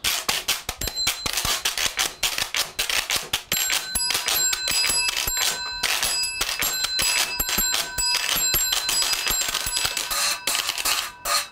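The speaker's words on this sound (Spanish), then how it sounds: "Y mandate un timbre." A bell rung over and over in quick, bright metallic strikes, steady and close throughout, with more ringing starting a few seconds in, as part of a look at instruments and sounds of the city.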